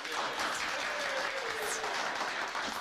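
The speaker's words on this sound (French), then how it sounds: "Oui, oui, oui, applaudissements." Steady applause from an audience, a dense even wash of clapping that runs for about three seconds at a moderate, slightly distant level with no break.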